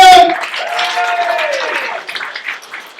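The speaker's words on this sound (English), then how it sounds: "Alright, ladies, one more round of applause for Muriel and Jamal!" An audience at a stand-up comedy night applauds, the clapping starting full just as a voice on a microphone finishes speaking, then gradually thinning and tapering off toward the end.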